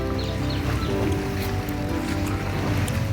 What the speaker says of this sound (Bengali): চারপাশে জলের আওয়াজ শুধু।